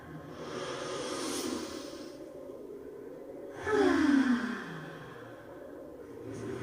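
Slow deep breathing exercise in a classroom calm-down lesson, with two long, soft inhale-exhale swells, the second stronger and closer, heard alone without talk.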